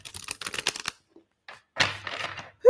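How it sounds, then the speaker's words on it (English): Tarot cards being shuffled by hand, with quick riffling bursts, a short pause, then a second denser flurry of card flicks, close and crisp, with no talk. "one more shuffle"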